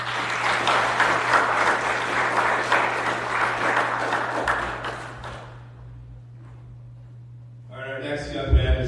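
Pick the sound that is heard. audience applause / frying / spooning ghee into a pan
audience applause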